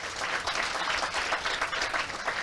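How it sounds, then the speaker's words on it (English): Children in a crowd at a Kenyan political rally clap for themselves, a moderately loud, slightly pulsing stretch of applause lasting a couple of seconds. "Clap for yourselves."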